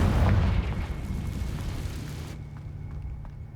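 A Confringo blasting curse exploding in the Hogwarts Legacy video game, a heavy deep boom at the start that rumbles and fades into a quieter tail.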